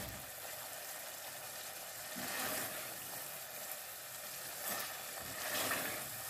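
Creamy chicken keema cooking in a pan, a quiet continuous sizzle and bubble with a few slightly louder swells, no talk.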